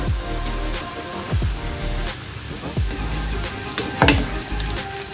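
Boondi for motichoor laddu fries in hot oil on medium heat, producing a steady sizzle, with a few brief scraping or stirring swishes near and clear, and no talk over it.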